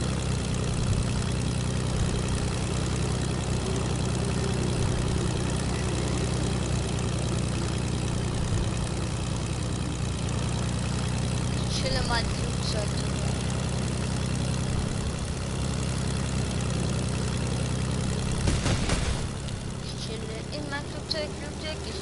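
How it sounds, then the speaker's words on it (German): Airplane engine in the Fortnite video game drones steadily for over twenty seconds, a loud low propeller hum with a brief clatter near the end and a slight drop in level afterward. "Ich chille in meinem Flugzeug"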